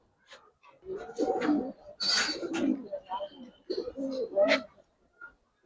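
Giribaz and coloured pigeons coo at a pigeon sale, giving a series of low, soft, throaty calls in short bursts, fairly close, mixed with people talking nearby.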